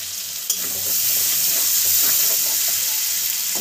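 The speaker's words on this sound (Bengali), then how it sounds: "পেঁয়াজগুলো একটু ভাজা ভাজা করে নেবো" Chopped onions sizzle steadily in hot oil in a pan, a dense, even hiss close up with a small clink near the start, cooked as part of a Bengali vetki fish bone chorchori.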